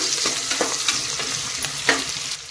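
Long-sliced onion frying in a pan for hotel-style pulao, a close steady sizzle broken by several scraping stirs of a spoon.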